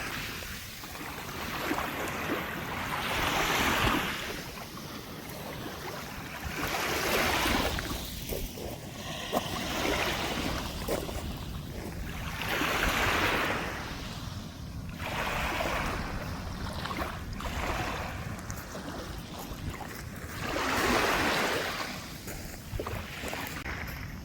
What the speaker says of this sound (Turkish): Şimdi size denizin sesini dinleteyim.